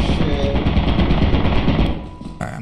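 Turrets in the video game Lethal Company fire a loud, rapid machine-gun burst, close and continuous for about two seconds, then cut off abruptly.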